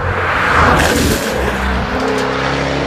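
A 2015 Jaguar F-Type Coupe accelerating hard, the engine roaring loudly and steadily, then settling into a lower, sustained drone as the car drives on.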